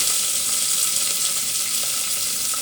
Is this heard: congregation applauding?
no